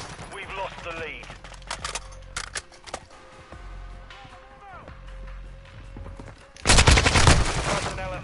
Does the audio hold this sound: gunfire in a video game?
yes